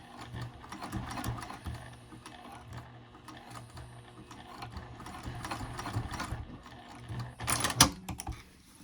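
A sewing machine back stitches across a wristlet clutch strap in a run of quiet, steady mechanical whirring and ticking, with a brief louder clatter near the end and no voices.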